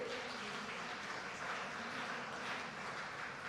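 An audience at the Hum Mahilayen women's conclave in Faridabad, India, applauds in a sustained, even wash of clapping that holds steady throughout, with no voices above it.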